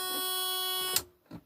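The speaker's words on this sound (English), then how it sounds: "it's got an alarm going on" An electronic alarm on a Lazy Daze motorhome's control panel sounds as a steady high-pitched tone that stops abruptly, followed by a couple of faint knocks nearby.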